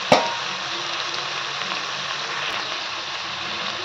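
Beans, carrot and potato sizzle steadily in hot oil in a pan for vegetable sambar, a continuous close frying hiss with a brief clatter at the start.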